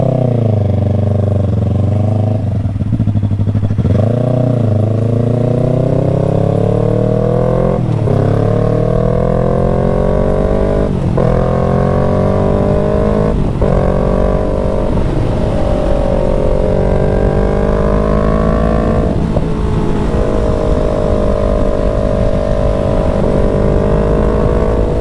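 A motorcycle upgraded with a fuel controller and custom fuel mapping rides at night, its engine droning loud and close for the whole stretch, pitch climbing through the gears and dipping briefly at each shift.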